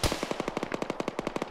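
Rapid automatic gunfire from a town in a video game: a steady burst of about twenty evenly spaced shots at moderate distance, fairly quiet, with no talk.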